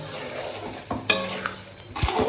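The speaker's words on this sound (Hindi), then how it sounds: "इसी तरह से हमने प्याज भूनने हैं।" Sliced onions sizzle steadily in hot oil in a pan while being fried for dhaba-style masala dahi bhindi. A utensil scrapes and stirs through them in a few distinct strokes, heard up close.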